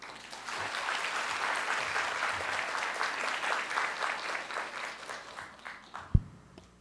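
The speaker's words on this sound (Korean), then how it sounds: "다시 한번 큰 박수 부탁드립니다." Parents in an auditorium applaud the education superintendent's speech at a high school curriculum briefing, sustained moderate clapping that thins out into scattered claps, ending with a sharp thump.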